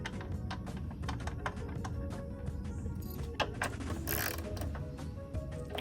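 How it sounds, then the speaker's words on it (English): A tap is worked by hand into a bolt hole on a Scion tC radiator support, producing rapid metallic clicks and ratcheting ticks, close up and moderately quiet, with no talking. "I'm going to tap the 10 bolt thread in."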